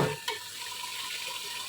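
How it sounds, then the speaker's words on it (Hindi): Raw chicken frying with yogurt in a pot for biryani, a steady close sizzle with a brief stir or scrape near the start, no voices. "अभी हम इसको 2 मिनट तक भूनेंगे क्योंकि गोश्त हमारा कच्चा है"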